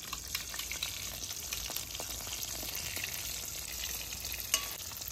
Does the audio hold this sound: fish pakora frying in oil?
yes